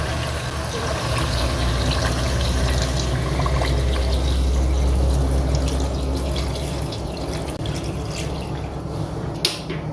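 Water pours into a pot of mutton nihari, about 1.5 kilograms of meat and 2 litres of water, a steady close rushing splash that continues for several seconds before tapering slightly.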